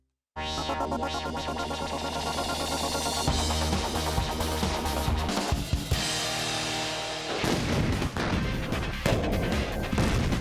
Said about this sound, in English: That's what the detonation of a trunk full of Hollywood binary explosive looks like.